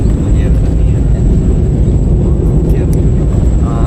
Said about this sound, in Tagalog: Konting minuto na lang maglalantig na yung sinasakyan nating aeroplano.